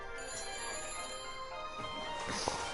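An electronic telephone ring rises from inside a futuristic phone helmet in the Back to the Future video game after a number is dialed, a faint steady tone with a tonal chime near the end.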